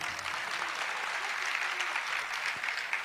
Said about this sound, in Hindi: ताली तो बजा ही दिया आपने